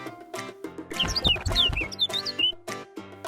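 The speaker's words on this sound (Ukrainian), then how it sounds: "Ой, Оу! пташка." A cartoon bird in a Ukrainian children's animation chirps in a quick string of bright, high tweets, close and clear over soft musical tones, with no talking.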